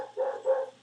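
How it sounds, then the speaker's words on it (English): Two quick barks from a dog close by, sharp and loud, the pair coming back to back within under a second with nothing else around them. "And those are the dogs. They have a lot to say."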